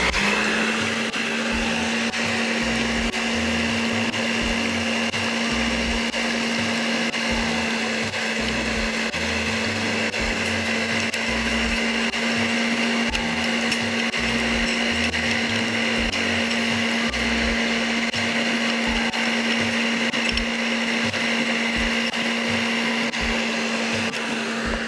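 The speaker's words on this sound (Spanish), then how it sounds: "vamos a colocarlo a batir en bajo y voy adicionando la gelatina sin sabor" An electric mixer beats red berry mousse on low speed, a steady, loud, continuous whir with a constant hum that stays even from start to finish.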